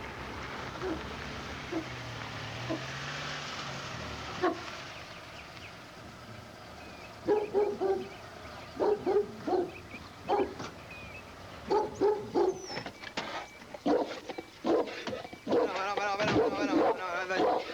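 A dog barks and yips in a run of sharp, fairly close bursts that grow busier toward the end, with voices talking underneath.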